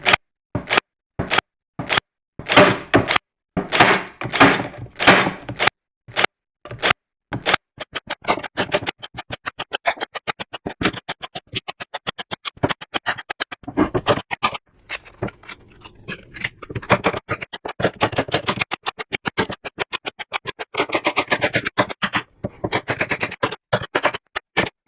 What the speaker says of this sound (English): I've shot a few staples out of that stick. I'm going to do a couple more